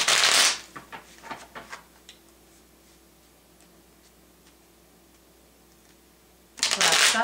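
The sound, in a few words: shuffling tarot cards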